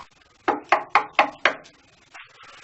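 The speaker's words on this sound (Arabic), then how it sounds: "هذا من دق الباب؟" Five quick knocks on a door, sharp and evenly spaced, followed by a faint rustle, with no talking over them.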